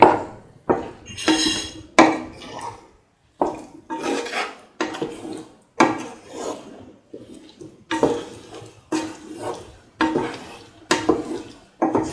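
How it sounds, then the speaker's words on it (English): Cottage cheese being stirred into a rice and tomato mixture in a pan, with repeated scraping and clattering strokes of a utensil against the metal, loud, close and in a steady rhythm. "Mix the cottage cheese thoroughly with the rest of the mixture."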